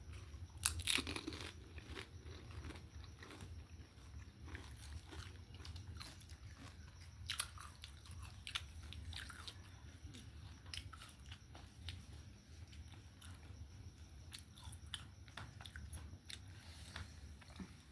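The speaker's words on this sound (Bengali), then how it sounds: "চলো ফুচকা খেয়ে নিই" Close, quiet crunching and chewing of fuchka (pani puri), with irregular crisp bites and soft wet mastication continuing throughout, no talking.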